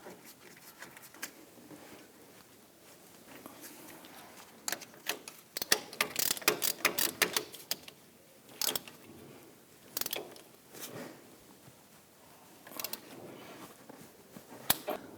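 Ratchet wrench tightening the brake caliper-to-bracket bolts on a 2006-2010 Hummer H3, heard as quick clicking ticks in bursts with pauses between, close by and fairly quiet.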